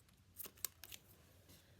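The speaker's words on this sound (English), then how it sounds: "Now you will hear my scissors go because I want to cut this up" A few quick, quiet scissor snips cutting yarn in a short cluster, then one more faint snip after a pause.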